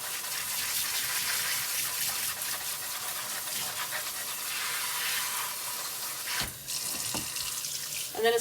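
A kitchen sink sprayer runs water over freshly harvested, muddy whole dandelions, a steady close hiss that breaks off briefly near the end, with no voices.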